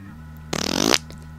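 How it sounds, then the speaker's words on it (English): A farting sound effect plays as a partially open door is opened in the video game Marathon, a single close, loud, rippling burst of about half a second over a steady low background hum. "I might have recorded a farting sound effect on this computer, and that's what it's playing for that door sound right there"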